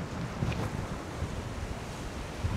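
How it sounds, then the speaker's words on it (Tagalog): Strong wind buffets the microphone in a continuous roar at an outdoor playground in Iloilo City, with a broad rushing noise throughout and no voices. "Ang lakas ng hangin!"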